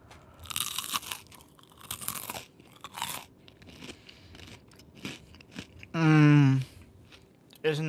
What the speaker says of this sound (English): Listen to this crunch.